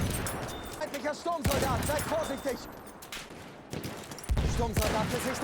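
Gunfire from the video game Battlefield 1: sharp, loud shots cracking at irregular intervals, some spaced a second or more apart, over a busy battlefield din with a voice speaking briefly.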